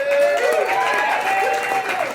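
Live show audience applauding and cheering, a dense wash of crowd noise with ongoing clapping, fairly loud and sustained throughout.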